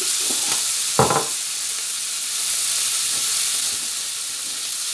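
Onions and peppers sizzle steadily while frying in a pan for a Spanish-style chicken dish, a constant broadband hiss with a brief louder crackle burst near the start, close and alone with no talking.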